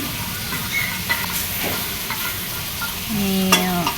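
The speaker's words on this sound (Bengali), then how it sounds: "এখানে বড়ি ভাজতেছে" Bori lentil dumplings fry in hot oil in a home kitchen, a loud, close sizzle broken by the clatter of stirring and the occasional scrape of the pan.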